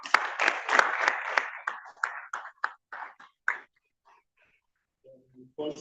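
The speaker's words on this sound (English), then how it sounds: "So a round of applause" Applause from the audience at a job and employability fair, a dense burst of clapping that thins into scattered claps and fades to near silence, with a faint voice at the end.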